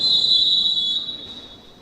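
A referee's whistle shrills at a women's Serie A roller hockey match, one long loud steady blast that holds and then fades, with faint arena noise beneath.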